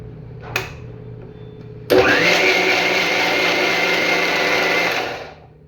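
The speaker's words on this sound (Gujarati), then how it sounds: "હવે ઢાંકણ ઢાંકીને આપણે આને બ્લેન્ડ કરી નાખશું." A mixer grinder blends soaked tamarind and dates with water for pani puri. After a small click, the motor bursts on loudly with a steady, high whine for about three seconds, then winds down.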